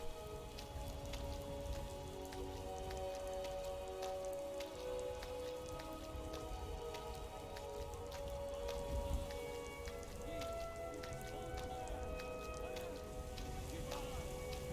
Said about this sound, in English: The light, pitter patter of rain.